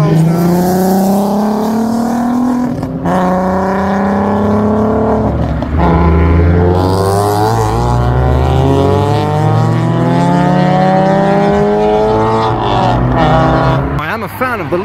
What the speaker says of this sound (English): Right, we've got a big gang of cars now.